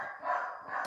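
Dogs barking in the background of an indoor room, a short burst of loud yips and barks under a continuous bright tonal layer, lasting under a second.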